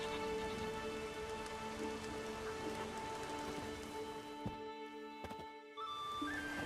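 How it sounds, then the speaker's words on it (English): Steady rain pours down continuously in the video game The Witcher 3, with sustained tonal hums running through it and a few soft thuds near the end. "There's no point standing here in the rain."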